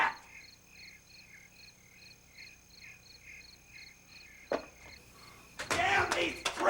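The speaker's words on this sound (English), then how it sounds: "Damn these crickets!" Crickets chirping at night in a flat, rural panhandle setting, a regular rhythmic trill pulsing steadily in the background before a few louder knocks and rustling noises take over near the end.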